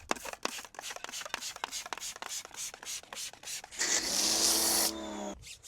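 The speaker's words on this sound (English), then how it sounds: "I've sprayed the Autoglym Polar Wash shampoo over the top just to provide a bit of extra lubrication" Autoglym Polar Wash shampoo sprayed over car wheels: a steady hiss of about a second follows a run of rhythmic scrubbing strokes, close up, with no talking.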